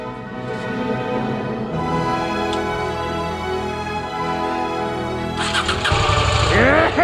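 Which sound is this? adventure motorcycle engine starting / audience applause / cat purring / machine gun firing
adventure motorcycle engine starting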